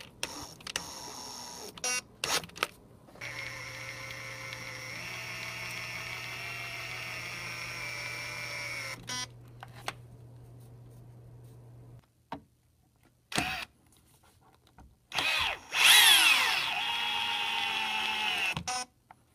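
A Fein ASCS 6.3 18V cordless drill/driver drives trim screws into window casings on a low torque setting. Close, whining motor bursts of several seconds rise in pitch, separated by pauses and clicks.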